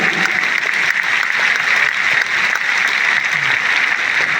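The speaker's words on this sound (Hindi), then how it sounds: "उनके लिए भी बहुत जोरदार ताली।" A big stadium crowd at a Delhi event gives loud, sustained applause for Manchand sir, a dense continuous roar of clapping that stays even throughout.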